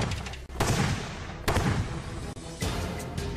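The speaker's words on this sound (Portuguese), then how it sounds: "Após algumas explosões," Several loud, sharp blasts from a sonic cannon being tested, each a sudden broadband burst followed by a rumbling decay, spaced about a second apart amid continuous background noise.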